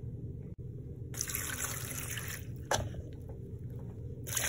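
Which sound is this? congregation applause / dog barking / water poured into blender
water poured into blender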